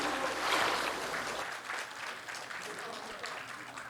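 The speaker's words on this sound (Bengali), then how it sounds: "জোরে আরো জোরে এক হাততালি" An audience at a poetry-and-dance show at Sisir Mancha bursts into loud applause that peaks early, then thins to a quieter patter of clapping.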